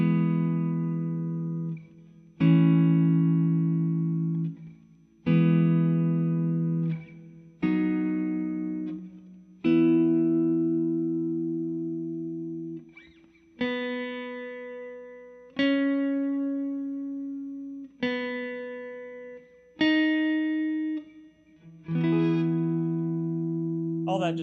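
Guitar strums a sequence of chord inversions with a clear top melody note, each chord ringing out and decaying before the next, about eleven in slow succession, played alone.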